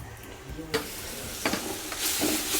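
Chicken frying in a pot for Canada-style biryani, with a steady sizzle and a few clattering stirs of a spoon, growing louder and hissier toward the end.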